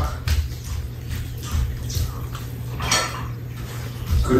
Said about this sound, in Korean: 그릇을 놔야겠다.